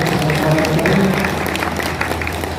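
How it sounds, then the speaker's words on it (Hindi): Crowd applause welcoming a BJP district president on his first arrival in Shamshabad, a steady continuous clapping that fills the whole stretch at fairly loud level, with a low hum beneath and a few voices mixed in. "एक बार फिर तालियां बजाकर हमारे जिला अध्यक्ष का स्वागत करें"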